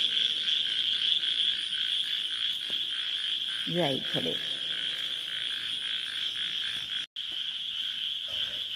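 Frogs croak and crickets trill outdoors at night near a house around eleven o'clock, a dense steady high insect chorus with repeated croaks, and someone speaks briefly over it.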